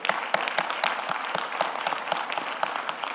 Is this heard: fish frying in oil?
no